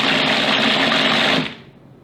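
A blender purees baked pumpkin in a loud, steady whir for about a second and a half, then cuts off and winds down to quiet.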